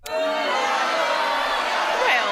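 A studio audience on a dating reality show reacts with a loud, sustained collective outcry, a steady wall of crowd noise lasting the whole moment.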